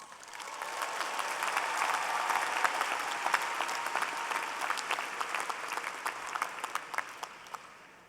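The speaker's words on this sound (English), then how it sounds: "Give yourself a huge applause." A large crowd of graduates at the 2017 UCLA College commencement ceremony breaks into applause, a broad wash of many hands that swells, holds and gradually thins out, heard from a distance in a big open space.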